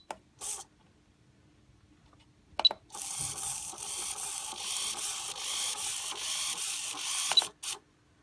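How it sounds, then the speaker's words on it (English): An RC servo driven by a CellMeter 8 tester whirs for about four and a half seconds in a steady close buzzing sweep, framed by short clicks and brief motor bursts before and after, with no voice. "So you can check the servo, hold the center button."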